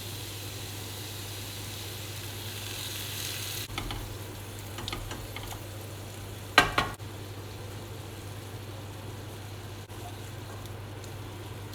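Chorizo and chicken livers with tomato and paprika cooking down in a pan make a quiet, steady sizzle and bubbling under a low hum, with a few sharp clicks and clinks partway through.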